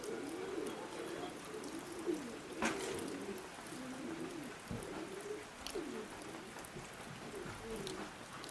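Roller pigeons coo softly and repeatedly on a calm, windless day, low rolling calls overlapping one another against a faint hiss, with a couple of brief knocks.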